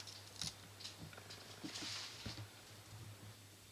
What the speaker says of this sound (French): Ciseaux. Ciseaux.